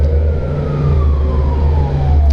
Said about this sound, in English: There's another siren.